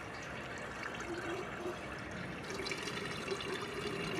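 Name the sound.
filling a water tank from a tap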